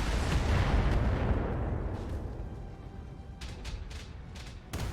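Turret fire in the BattleTech video game, a heavy rumbling artillery-like blast that fades out, then a quick series of sharp, close bursts at the end.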